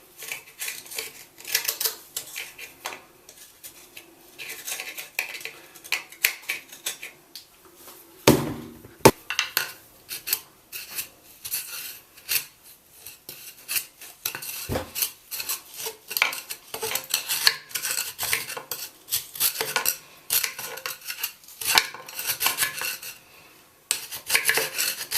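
Someone scrapes mineral buildup and gunk from the sides of a slow drain, producing close, irregular rasping and scratching strokes with scattered clinks, and no talk.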